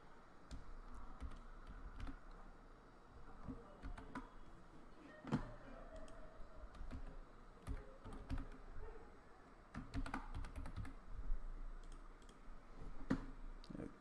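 A password is typed on a computer keyboard: a quiet, irregular run of close key clicks with brief pauses and a few louder taps, no talking.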